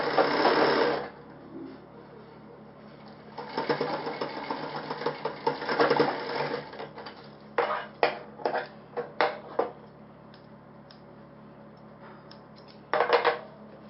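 A sewing machine stitches a shirt sleeve cuff placket in runs of rapid whirring, starting and stopping with short bursts and pauses, fairly quiet and close, with no speech over it.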